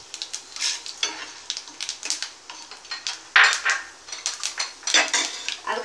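Chana dal lands in hot oil for tempering while preparing aval upma: a rapid run of small crackles, pops and light metallic taps on the pan, with a sizzling undertone and no talk.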